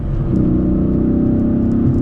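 A Dodge Charger SRT8 with a 6.1 V8 engine rumbles with a deep, steady, throaty roar, held close and loud without any talking.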